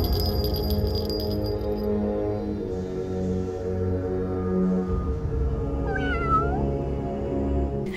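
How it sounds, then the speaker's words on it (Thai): Several cats meow close by, with a light jingling bell near the start over a steady low background hum. "มีแมวหลายตัวน่าเบื่อจริงเลยเล่นแต่กระดิ่งนั่นแหละ"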